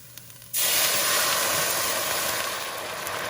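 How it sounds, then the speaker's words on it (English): Cabernet Sauvignon red wine hits a hot pan while deglazing it for beef stew, bursting into a loud, sustained hiss of steam that slowly eases off. "This red wine is going to help deglaze all my pan."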